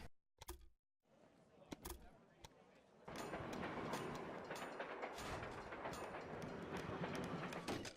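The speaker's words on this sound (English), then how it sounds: "So let's get the trains up and running." Trains run in the Railway Empire video game, a soft steady rolling clatter of wheels on track that starts after a few sparse clicks and carries on evenly at low volume.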